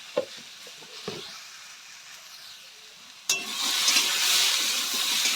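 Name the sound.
stirring carrot curry after adding turmeric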